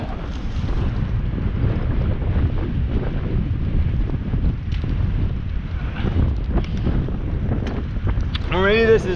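Strong outdoor wind buffets the microphone throughout as a steady, loud rumbling roar, with faint voices partly buried beneath it.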